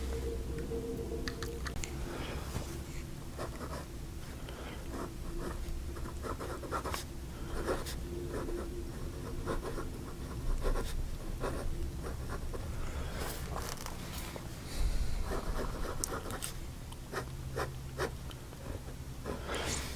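A vintage Waterman fountain pen with a soft, flexible nib writes on paper, giving a continuous close scratching and scraping with small ticks as strokes begin and end, steady throughout without talk.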